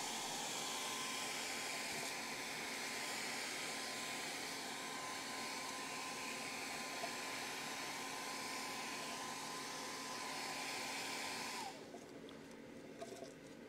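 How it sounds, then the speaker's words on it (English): Hair dryer blowing steadily at close range for about twelve seconds while drying sandcarved wood, a constant whooshing whine, then switched off leaving near silence. "let me go ahead and use the hairdryer just to speed this up"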